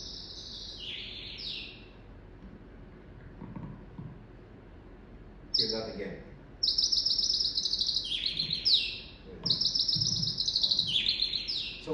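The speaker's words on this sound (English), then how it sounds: "This is a very common bird, found in Europe and Asia" A common bird found across Europe and Asia chirps in repeated bright, high trilling bursts, starting alone and then growing louder and denser in the second half, with a brief voice and some background rustle in between.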